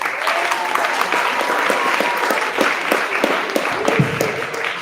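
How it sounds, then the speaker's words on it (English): Audience applause at a Parkway Northwest Peace Day event, dense steady clapping for about five seconds, close and lively, with faint voices mixed in. "Can we give her another round of applause?"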